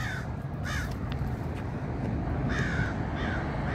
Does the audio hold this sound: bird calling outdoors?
yes